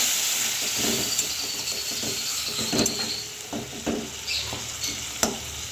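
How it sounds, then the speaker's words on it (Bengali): A little water hits spices frying in a pan with chilli powder, setting off a loud, steady sizzle and hiss with a few clinks of a stirring spoon, close by, with no talking. "দিয়ে দিচ্ছি একটু জল মশলাতে, অল্প করেই দেবো।"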